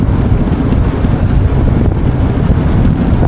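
Steady, loud wind rushes and rumbles against the microphone throughout, a constant low roar of air while cycling at speed.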